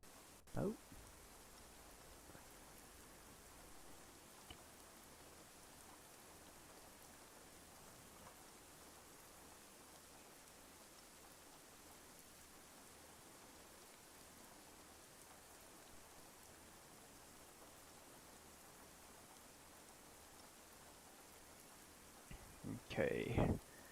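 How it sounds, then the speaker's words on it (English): Rain falling in a military combat video game mission: a faint, steady hiss of rainfall runs unbroken throughout, with a couple of brief clicks near the start and a short burst of louder noise at the end. "Hate the rain in game."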